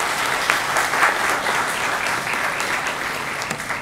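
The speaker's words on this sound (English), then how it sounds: "welcome all the new students with a round of applause for all of them here" A crowd of new students and guests applauds at a distinguished lecture and book launch, steady dense clapping held at full strength throughout without a break, close and loud.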